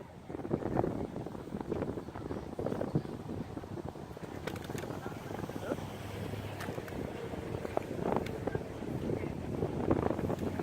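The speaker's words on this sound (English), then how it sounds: "It is a little windy." Steady outdoor wind rumbling and buffeting against the microphone, a continuous low roar with a faint bird call now and then.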